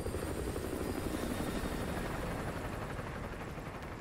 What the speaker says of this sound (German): Feindlicher Heli auf Patrouille.